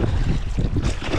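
Strong wind buffets the microphone while paddling on open water, a dense, roaring rush with gusty swells and no clear speech.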